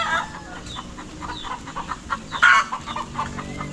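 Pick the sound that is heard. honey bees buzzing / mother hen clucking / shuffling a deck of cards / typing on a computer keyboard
mother hen clucking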